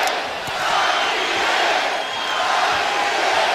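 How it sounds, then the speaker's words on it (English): A packed boxing arena crowd of over 14,000 in the Central Valley chants for its homegrown world champion Jose Ramirez, a dense, loud, sustained roar of voices with a rhythmic chant swelling through it. "listen to this crowd as they chant for their homegrown world champion"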